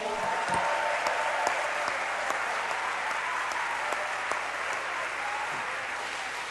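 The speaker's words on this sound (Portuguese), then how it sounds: "Você pode dar um aplauso ao Senhor aí?" A congregation at an evangelical church service claps together in steady, sustained applause that fills the room and carries on evenly throughout, with no voices rising above it.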